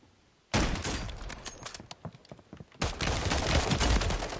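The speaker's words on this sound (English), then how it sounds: "What are you shooting at" Heavy video game gunfire bursts in abruptly, a dense crackling barrage of rapid shots that eases briefly, then surges back even louder and keeps going without a break.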